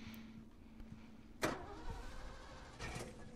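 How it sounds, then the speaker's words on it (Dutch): A car engine in the game The Last of Us turns over and rumbles at mid range, with a sharp mechanical thump partway through and a second surge near the end, no talking. "Ik hoor een auto."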